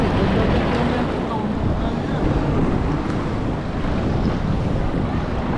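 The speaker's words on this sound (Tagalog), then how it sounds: "Bale, lalaki nga ng alon eh." Big sea waves and strong wind surround a fishing boat in a heavy current, making a steady, loud roar of rushing water and gusts buffeting the microphone, with no pauses.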